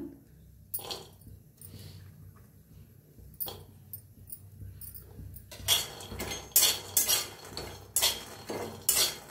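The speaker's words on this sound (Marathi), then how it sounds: "तर शेंगदाणे भाजून घेऊया। बरोबर खोबरं बी भाजून घेऊया आपण।" Peanuts and coconut dry-roasting in a pan for a spicy North Karnataka brinjal dish. A faint, quiet stretch gives way to loud bursts of rattling and scraping as the pan is stirred, with no talk.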